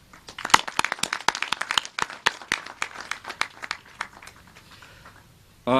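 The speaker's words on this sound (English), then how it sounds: "the chief guest deserves a bigger hand clap" A graduation ceremony audience at a hotel and tourism training institute applauds the chief guest, with a burst of dense, sharp clapping that thins out over several seconds before a voice cuts in at the end.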